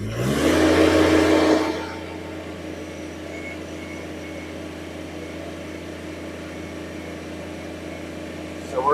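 A John Deere 1023E compact tractor engine roars loudly at full throttle while straining to lift a heavy loader bucket, then drops after about two seconds to a steady, quieter engine hum.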